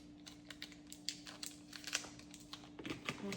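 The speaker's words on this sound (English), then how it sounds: "I'm gonna roll up my tape. And stick it on here" Adhesive tape being rolled up and pressed onto a gift bag filled with shred, a close series of soft crinkles, taps and sticky crackles with a faint steady hum beneath.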